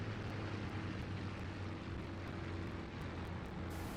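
A Spitfire IX's piston engine drones in the IL-2 Great Battles flight sim as the plane comes in to land, a steady, moderately faint low rumble with a throbbing propeller hum and no speech.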